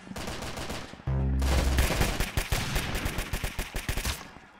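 The little Tom, a pistol-like gun in the Roblox game Arsenal, fires in a quick run of sharp shots that builds into rapid, evenly spaced bursts before thinning out, loud and without speech.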